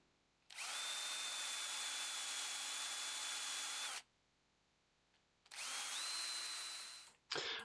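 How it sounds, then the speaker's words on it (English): A power drill boring and countersinking holes in a brass strip runs in two long, steady, loud whines of several seconds each, separated by a short quiet pause, with no speech. "Holes are then drilled and countersunk."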